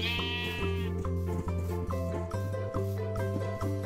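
Sheep bleating in Minecraft, several layered blocky bleats repeating steadily over a low sustained drone, loud and close with no talking.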